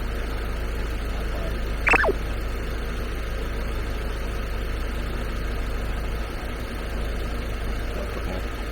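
Mini Cooper S R56 engine, freshly drained of oil for a flush, idling steadily with a low, even hum for several seconds, with a brief faint clunk early on and no talking.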